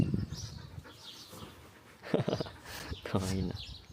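A friendly dog met in a village on the Camino de Santiago in Spain pants close by in short rhythmic bursts, with a person speaking over it.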